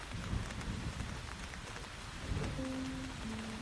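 Steady rain falling on a roadside in a rural village setting, a dense close patter with occasional louder drops, heard alone, with a faint low rumble and brief tonal sounds near the end.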